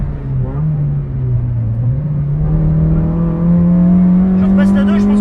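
A Honda CR-Z engine on the Ledenon circuit, dropping a gear under braking: a loud, steady in-car drone that dips, then climbs in pitch as the revs rise, growing louder and harsher toward the end.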